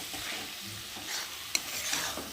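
Shapla water-lily stems with shrimp being stirred in a pan: a soft, brief scraping and gentle sizzle, with one sharp utensil tap partway through.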